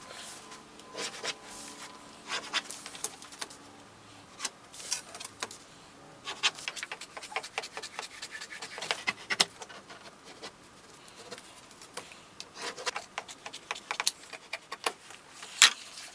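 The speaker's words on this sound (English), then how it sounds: "So that's all 4 pieces now cut out." Leather being cut into pieces for a VW Eos door card repair, with a dense run of crisp snips and scraping cuts, close up and uneven in rhythm, with no speech.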